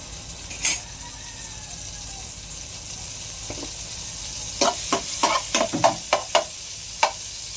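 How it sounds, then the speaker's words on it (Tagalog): Star Margarine melts in a frying pan with a soft, steady sizzle, broken by a sharp scrape early on and a run of quick stirring scrapes and clinks near the end. "Lalagay tayo sa kawali ng Star Margarine."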